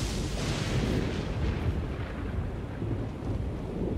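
Thunder from lightning in Elden Ring rolls as a deep, continuous rumble that sits heavy and loud through the whole stretch, with no voices over it.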